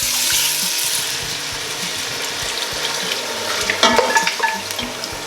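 Bone stock saved from braising beef cheeks is poured into a French oven, giving a steady watery splash and trickle, close and moderately loud, with a few clinks of metal near the end.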